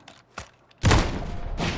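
Gunfire in a video game: a few faint thumps, then a loud, bass-heavy burst of shots that rolls on as a dense rumble and swells again at the end.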